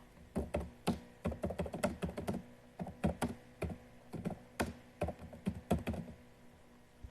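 Rapid clicking of a computer keyboard as text is edited, with irregular bursts of close, crisp keystrokes and short pauses between them, no voices.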